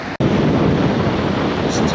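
Surf breaking on the beach at Dawlish Warren in South Devon at high tide, a loud continuous wash of waves mixed with wind buffeting the microphone, broken by a brief dropout near the start.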